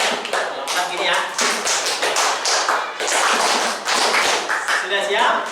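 Schoolchildren clap rakaat counts for the daily prayers in a classroom, repeated clusters of sharp claps ringing out over lively talking and a teacher's voice.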